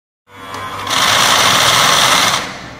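A Willpex FN2 mini overlock sewing machine stitches fabric with four threads, its fast motor whirring up to a steady, loud buzz that holds for a couple of seconds and then winds down.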